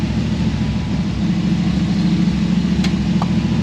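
Ford Mustang engine with a newly fitted carburetor settles into a steady, close idle, a low rumbling drone with even pulses, no voices over it.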